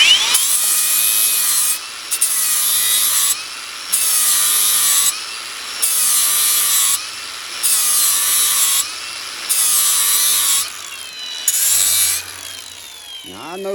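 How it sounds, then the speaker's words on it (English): Power grinder working the end of a lawn mower blade clamped upright in a vise, a loud continuous grinding whine in repeated passes of about a second and a half each, separated by brief dips as the tool lifts off, with no talking. "He's supposed to be sharpening the blade and he's grinding the end off of it"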